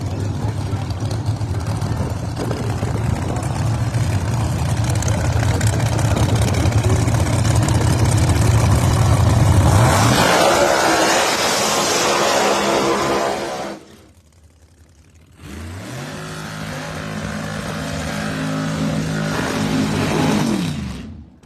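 Pro Mod drag racing cars at an outdoor dragway roar loudly down the strip, a heavy engine rumble that rises into a harsher howl, cuts out abruptly, then returns as another loud pass.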